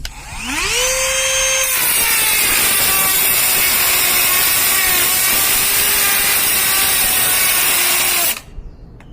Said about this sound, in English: now we're going to try the Dremel 8220, full speed.